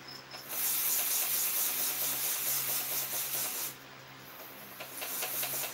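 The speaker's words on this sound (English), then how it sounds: "if you spray the enclosure with water" A fine water mister hisses in long continuous bursts into a spider enclosure, close by, with a brief pause and a couple of short sprays after.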